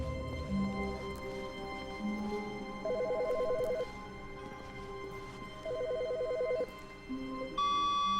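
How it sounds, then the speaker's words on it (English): Telephone ringing in the video game The Stanley Parable, two electronic trilling rings about a second each, spaced roughly three seconds apart, over soft steady background tones from the game. "Oh, there's a phone ringing."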